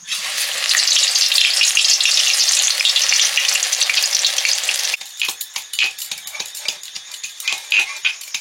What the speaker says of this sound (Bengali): কুলেখাড়ার চপ ভাজা শুরু হয়েছে।